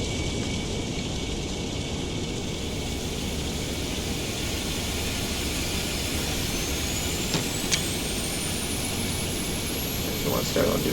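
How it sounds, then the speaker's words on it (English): An Airbus A350-900 jet engine spools up in a flight simulator under a steady mechanical roar, a rising whine climbing in pitch over several seconds with a few clicks near the end. "Ignition start. Starting engine 1."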